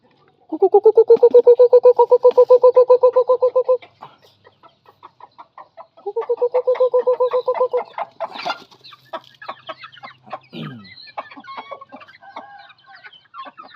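Chickens cluck in rapid rhythmic bursts close by on a farm during morning chores, with two long loud runs of calls followed by scattered softer clucks and other bird sounds, with no talking.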